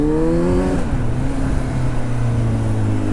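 Kawasaki Z900 motorcycle riding off, a loud close engine note that drops in pitch as it shifts and then holds a steady low drone, with no talk.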